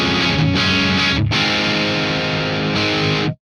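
Electric guitar through a McRocklin PolyChromeDSP boost set at the edge of breakup, chords strummed and let ring, lightly distorted and loud, with one short break before a final long ringing chord that cuts off abruptly.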